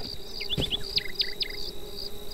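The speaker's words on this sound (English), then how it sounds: "And now we have bees." Bees buzz in the flash game Lakeview Cabin as a series of short, chirpy electronic insect tones that sweep downward in quick repeated bursts over a faint steady hum, with a soft thump early on.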